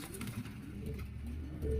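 A pigeon kept by a Filipino racing-pigeon breeder coos softly in a low, rolling rhythm, close by, with a faint chirp near the end and no talk.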